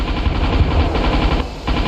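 Artillery cannon shots in the combat game Ravenfield, a loud, sustained rattle of rapid gunfire close up, with brief dips in intensity.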